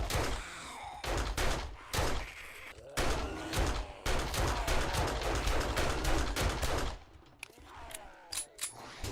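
Pistol shots ring out in the video game 7 Days To Die, loud and close, in rapid bursts of sharp cracks with short gaps between them, then a few scattered final shots.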